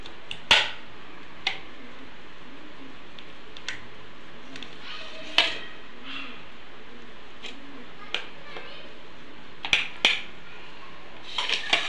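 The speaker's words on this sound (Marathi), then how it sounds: "ते गरम असतं, ते चमच्याने उलटण्याने सास करायचं, हाताने नाही करायचं." A metal spoon scrapes and presses a hot coconut burfi mixture into shape in a pan, sharp scattered taps and clicks at irregular intervals, a few clustered together, over a quiet background.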